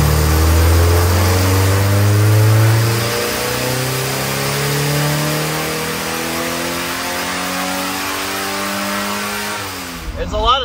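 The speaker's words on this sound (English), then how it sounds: "I'm going to make a run right now with the engine fairly cool" A car engine with a running fault accelerates hard on a test run while still fairly cool, its loud, close tone climbing through gears in long steady rises, then dropping off at the end, with a voice briefly over it.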